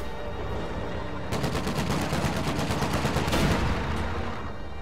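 Rapid bursts of game gunfire crackle in steady repetition, building to heavier blasts, loud and close with no talking.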